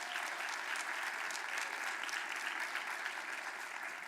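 Audience clapping at a Martin Luther King Jr. Day event at Clemson, a steady, fairly distant wash of applause that stays even throughout.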